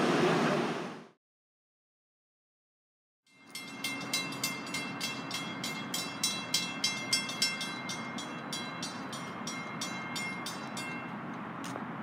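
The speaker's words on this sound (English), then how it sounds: "there's a train coming, a dart rail. I can hear it." A DART light rail train approaching after a brief silence at LBJ/Central Station, Dallas: a steady rumble builds, with a regular series of rhythmic clacks as the cars roll past nearby.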